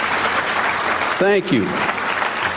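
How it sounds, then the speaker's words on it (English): A lecture audience claps steadily in warm, sustained applause, with someone briefly saying a few words over it. "let's give a hand to the MSA for putting this together."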